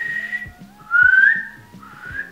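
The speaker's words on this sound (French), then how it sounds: "Est-ce que tu sais siffler?" A person whistling a few short melodic notes in three phrases, the middle one loudest and rising, close and clear over a faint rhythmic background beat, with no talking.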